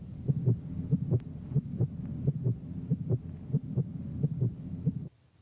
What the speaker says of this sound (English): you can hear the sound of the heartbeat that's playing there